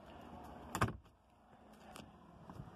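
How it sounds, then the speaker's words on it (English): Doors of a 2015 Mercedes-Benz Sprinter day cruiser van conversion being opened and shut, with one solid close slam followed by a few lighter clunks and latch clicks, no voices. "You can just feel in this vehicle the build quality when you're opening the doors and shutting the doors."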